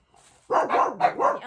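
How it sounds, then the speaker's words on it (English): Indoor dogs bark back at another dog outside, four or five quick loud barks close by in a tight burst, with a faint voice-like murmur just before. "Some dog barking outside, so of course they've got to answer back."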